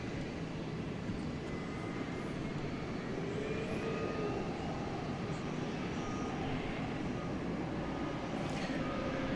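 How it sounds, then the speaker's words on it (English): An American Airlines Airbus A321neo departs DFW airport bound for San Francisco, a steady broadband jet engine roar holding at moderate distance throughout, with no voices. "Here goes American Flight 2430 to the city adjacent to the base, San Francisco. An Airbus A321neo."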